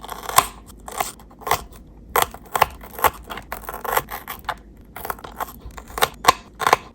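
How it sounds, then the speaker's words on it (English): Small scissors snip repeatedly through green onions for a miniature ramen dish, a close, crisp series of quick irregular cuts with brief pauses between clusters, no talking. "Shall we cut the green onions?"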